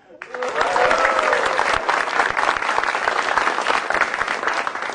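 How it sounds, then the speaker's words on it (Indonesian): A crowd at a stand-up comedy show breaks into loud, sustained applause that swells quickly and keeps going, with a brief voice or cheer near the start. "Tepuk tangan buat Wali Aco."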